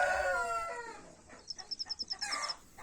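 In the Kenyan countryside, a rooster's crow fades out as nearby chickens break into a quick series of rhythmic clucks, fairly close, with a few high bird chirps.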